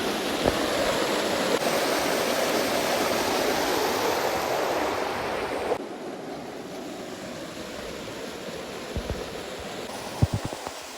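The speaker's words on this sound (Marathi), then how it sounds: "यात एक छोटं धबधबा आहे." A small waterfall near a village pours in a continuous broadband rush. The roar is close and steady, dips in level partway through, and a few faint knocks and bumps occur near the end.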